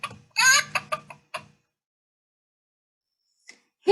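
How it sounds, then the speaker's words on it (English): A toy's chicken sound button plays a quick run of hen clucks, bright and close, followed by near silence with only a faint click before a final short burst at the very end. "Let's press the chicken button."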